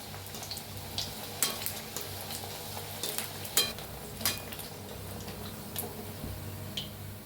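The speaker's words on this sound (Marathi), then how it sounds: "आपण तेलात सोडूया। असं थोडं तेल सोडूया पुरीवरनी।" Bajra masala puri frying in hot oil, a soft steady bubbling sizzle with scattered crackles and light pops over several seconds.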